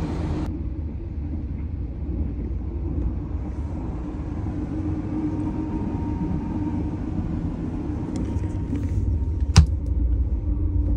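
A low, steady rumble of the Thailand Express train to Bangkok rolling along the tracks, with faint rattles and a sharp clack near the end.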